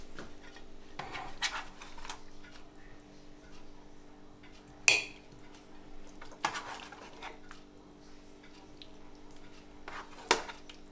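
Plates and cutlery clink faintly while potatoes and gravy from a turkey leg dinner on a vegetable bed are dished out, a few sharp scrapes and taps spaced apart over a quiet steady hum.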